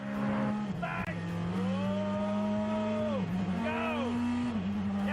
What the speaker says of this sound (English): This is the brand new World Rally Championship Mini.